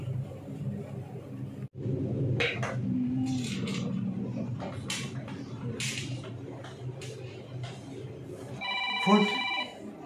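A telephone rings in a hospital drama scene, a short electronic ring heard near the end over muffled background noise and scattered clatter, with voices talking earlier.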